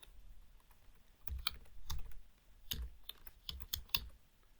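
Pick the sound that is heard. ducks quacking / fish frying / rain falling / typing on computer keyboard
typing on computer keyboard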